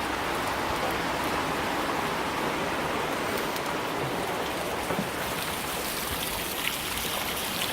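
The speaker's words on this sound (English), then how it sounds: "It was only drizzling earlier. Now it's a full on. Now you can see it, and you can hear it." Heavy rain pours down in a dense, constant, loud hiss that spreads evenly over everything, with scattered drops pattering on surfaces and no voices.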